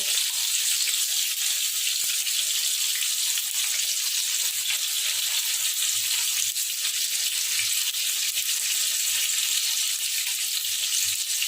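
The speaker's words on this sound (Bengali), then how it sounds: "দেখুন হালকা লাল লাল করে ফ্রাই হচ্ছে" Paneer tikka fries in a pan with a loud, even, hissing sizzle that continues unbroken, with faint low bubbling pulses beneath.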